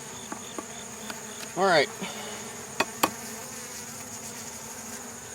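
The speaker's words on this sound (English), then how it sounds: "There are bees in here, but there's no queen." Bees buzzing inside an opened, queenless beehive infested with moths, a close insect buzz rising briefly to a loud swell among quiet background noise, with a few sharp clicks and a short spoken remark.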